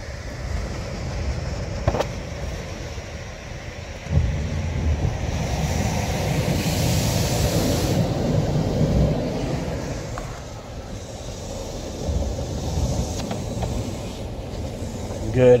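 Brand-new Razor Edge automatic car wash washing a car at a self-serve bay, a steady rushing spray and whooshing wash noise with a couple of thuds, continuous and moderately loud.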